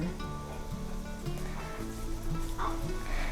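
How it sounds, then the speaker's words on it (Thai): Seasoned minced pork dropped into hot soup broth in a pot, a soft steady bubbling and sizzling simmer beneath faint background music and kitchen noise. "ใส่หมูบดนะคะ ที่เราปรุงรสไว้เมื่อสักครู่ ใส่ลงไปต้มก่อน"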